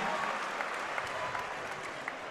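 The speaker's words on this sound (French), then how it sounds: "On peut l'applaudir très fort, s'il vous plaît." An audience at a French savate boxing elite final claps in steady, dense applause, heard from a distance and fairly quiet, with a few voices mixed in.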